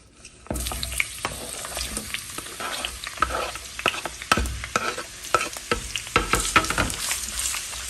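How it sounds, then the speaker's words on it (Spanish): Sliced onions drop into hot oil in a pot and start frying, making a loud, continuous sizzle that is broken by sharp scraping clicks as they are stirred. "Vamos a dejarlas aquí a que se empiecen a freír y que queden un poco más suaves."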